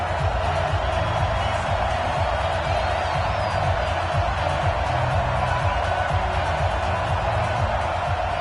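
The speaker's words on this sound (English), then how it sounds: "they've got the crowd involved fully on their side in this ball game" Stadium crowd in a playoff football video game roars steadily throughout, a dense, loud wash of cheering with no letup.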